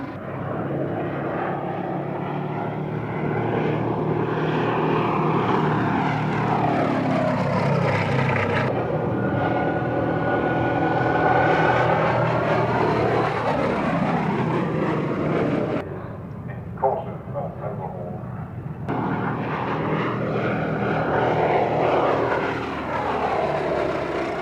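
Gloster Gladiator biplane flying a display at a 1990s British airshow, its propeller engine droning loud and steady throughout, swelling and fading as it passes with changing pitch.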